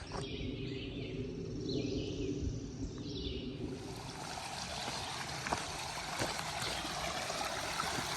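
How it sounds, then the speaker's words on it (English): Water in Matt's Creek flows beside the Appalachian Trail. The rushing, babbling stream is steady and moderately loud, and it grows fuller and brighter partway through. "It's Matt's Creek. I knew there was that water right in front of it."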